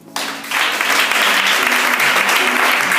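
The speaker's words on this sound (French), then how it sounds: "Quelqu'un peut acclamer." A church congregation bursts into sustained applause that swells quickly and stays loud and dense as a steady roar of clapping hands.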